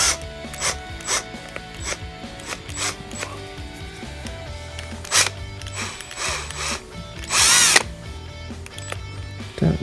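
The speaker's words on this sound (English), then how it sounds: "So I'm going to try to drill this out." A power drill whirs in short intermittent bursts, close by, with brief pauses and mechanical clicks between runs, drilling slowly into the plastic housing of a MacBook Pro power adapter cord clamped in a vise.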